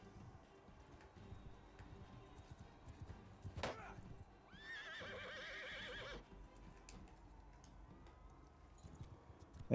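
A horse neighs in the medieval combat game Mount & Blade II: Bannerlord, one clear whinny of about two seconds standing out midway through a busy battle soundscape of clashing and thuds.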